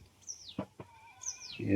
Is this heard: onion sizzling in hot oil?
no